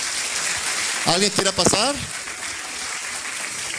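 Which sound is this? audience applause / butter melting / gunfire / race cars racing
audience applause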